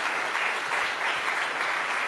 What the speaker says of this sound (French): Je crois que vous pouvez l'applaudir puisqu'il a beaucoup donné de sa personne.